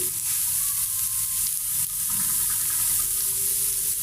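Spices and lentils (dal) being fried down in a pan produce a steady, close, continuous sizzle with no pauses and no talking.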